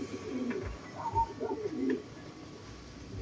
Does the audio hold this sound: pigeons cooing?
yes